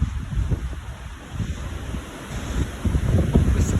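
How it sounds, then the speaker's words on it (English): High wind gusting over a homestead in Lawrence County, Mississippi, under a tornado watch, a loud rumbling buffeting on the microphone that rises toward the end, no talking. "But the wind is very high."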